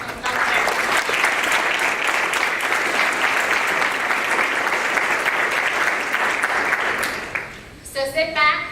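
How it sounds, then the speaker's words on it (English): A banquet-hall audience at a Tamil American awards ceremony gives award recipients a loud, sustained round of applause lasting about seven seconds before it fades and a voice begins speaking. "Let's give another round of applause to these 7 exceptional Tamil American pioneers."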